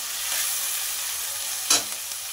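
Chopped onion and tomato frying in oil for a fish curry, a steady broadband sizzle with one brief louder stir or scrape near the end, close and alone without voices.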